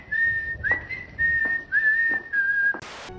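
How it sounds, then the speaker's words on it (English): A person whistles a simple tune alone, several sustained notes with small slides between them, ending in a short burst of hiss. "Oh, it's just me whistling."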